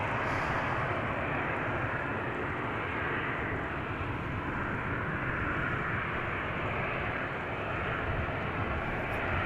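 An Airbus A320neo airliner departs from the runway threshold at Amsterdam Schiphol's Polderbaan, its engines giving a loud, steady, broadband roar that holds without a break for the whole stretch, with no voices.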